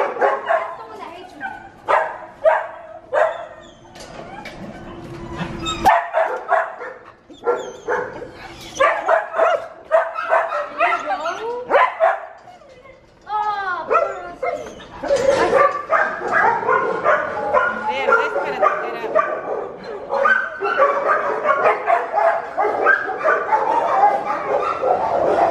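Dogs at an animal shelter bark, yip and whimper almost continuously, loud and close, often several at once, while someone talks over the din.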